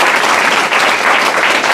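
An audience claps together in a dense, continuous burst of applause, loud and close and sustained for the whole moment, with no one speaking over it.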